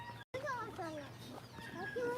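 A turkey hen gives several clucking, gobbling calls at moderate distance, quiet overall and interrupted by a brief silent gap, with a voice faintly audible.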